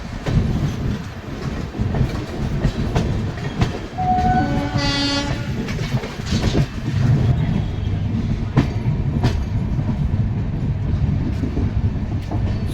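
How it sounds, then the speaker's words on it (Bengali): The Rupasi Bangla Express rolls into Kharagpur Junction in the morning, with a steady rail rumble and clatter and one loud horn blast partway through. "সকাল প্রায় 8টার সময় ট্রেন তার ফার্স্ট হল্ট খড়গপুর জংশন পৌঁছে গেছে।"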